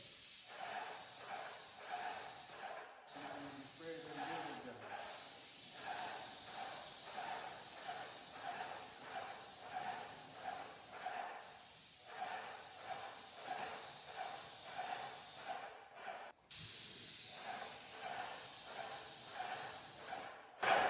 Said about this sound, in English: I spray the laps and then we spread them out and then you spray it